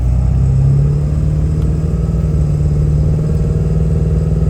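A 2003 Ford F250 pickup with the 7.3 Powerstroke diesel, heard from inside while pulling through its gears with a load of firewood, gives a loud, steady low rumble whose pitch climbs and then drops at a shift.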